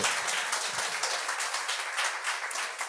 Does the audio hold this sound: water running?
no